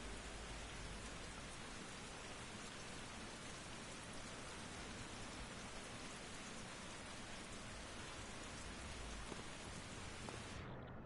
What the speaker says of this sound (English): I'm being rained on out here